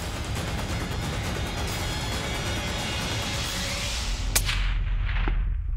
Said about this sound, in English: gave Thomas the green light to take a shot